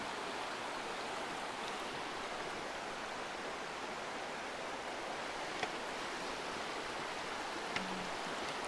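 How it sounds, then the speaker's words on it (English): Steady rushing water from a stream and nearby waterfall along the Swamp Lake trail, a continuous broadband roar that fills the scene without a break, with a couple of faint clicks on top. "There's a waterfall just upstream over there too."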